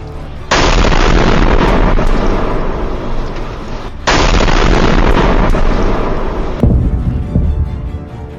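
Missile strike explosions in war news footage of an Iranian attack on Israel: two loud, sustained roaring blasts, each starting abruptly and rumbling on for seconds, followed by a sharper crack near the end.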